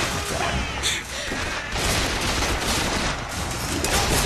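Continuous loud gunfire from Bioshock Infinite, a dense, unbroken stream of rapid shots and impacts with occasional sharper bursts throughout.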